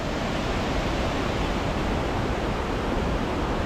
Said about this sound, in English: The Seaforth River, that's what we're following.